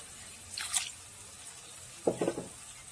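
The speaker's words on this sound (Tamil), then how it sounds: "இது கூட கொஞ்சமாக நம்ம தண்ணி சேர்த்துக்கலாம்." Two short splashes of water poured into a pan of cooking beetroot masala, a brief sizzle and drip each time, close and fairly quiet.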